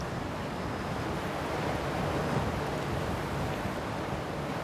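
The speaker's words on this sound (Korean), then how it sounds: "거친 파도 소리가 잠들었던 세상을 깨웁니다." Rough ocean surf crashing steadily on the shore at Moseulpo, Jeju, a constant dense roar of breaking waves with wind, continuous and loud throughout with no voices.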